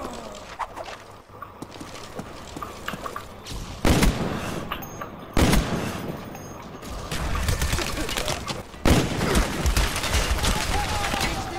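Gunfire from the shooter game Rage Ops, with sharp bursts and heavy booms erupting repeatedly over a steady din of game action, loud and close, with talking mixed in.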